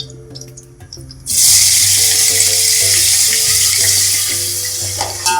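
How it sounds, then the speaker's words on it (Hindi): Ginger garlic paste drops into hot oil for mutton pulao and bursts into loud, steady sizzling and crackling that continues strongly, with faint music underneath. "अब इसको हम 2 से 3 से 4 मिनट तक हम फ्राई करेंगे"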